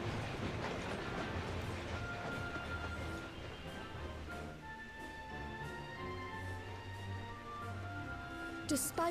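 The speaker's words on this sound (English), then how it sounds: "The train!" A train runs along the tracks in the video game Final Fantasy XIV, a steady low rumble with faint rhythmic clatter under background music, fairly quiet throughout.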